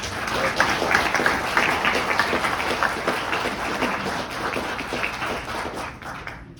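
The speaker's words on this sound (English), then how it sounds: "please give her a great round of applause and warm welcome" Warm, dense applause from an audience welcoming a guest speaker, a continuous roar of many hands clapping at close range that tapers slightly toward the end.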